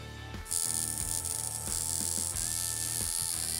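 A tattoo machine starts up and runs with a steady mechanical buzz and rattle, close and even, with no talking.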